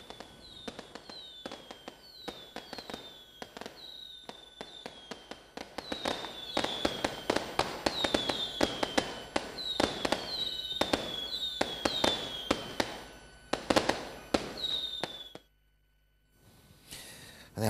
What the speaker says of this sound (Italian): infine i fuochi d'artificio